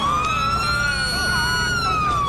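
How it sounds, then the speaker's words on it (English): A police car siren in the video game GTA IV wails loud and close, its rising and falling tone sustained throughout with engine and road noise beneath. "you hear my sirens"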